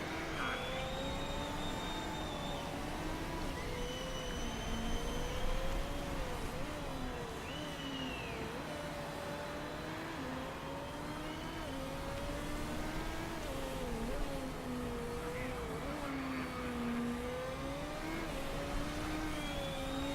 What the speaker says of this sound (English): And Max heading out onto track